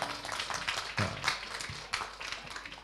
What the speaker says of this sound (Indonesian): Cakep, tepuk tangan.